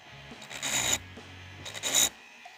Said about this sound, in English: I'm going to turn the Dremel on extremely low because I don't want to wallow out this hole